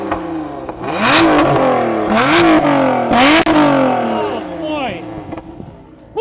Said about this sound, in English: It may be some baby revs.